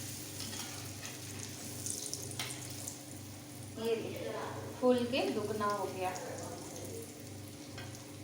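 Moong dal vadas fry in hot oil, the second side cooking toward golden, giving a steady low sizzle throughout, while someone speaks over it and a few utensil stirs and clinks come through.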